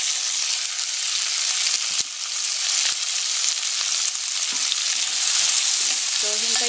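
Onions frying in a pan for beef stroganoff give a steady, bright hiss and crackle with a few sharp pops and utensil clicks. A short tonal squeak comes near the end.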